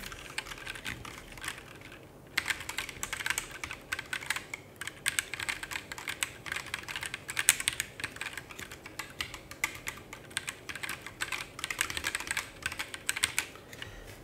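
Rapid clacky typing on a split mechanical keyboard, dense keystrokes close up, pausing briefly near the start before continuing steadily.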